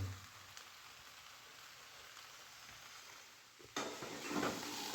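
Bharangi wild vegetable from the Konkan sizzling as it cooks in a pan: a soft, steady crackle that swells louder in the last second or so.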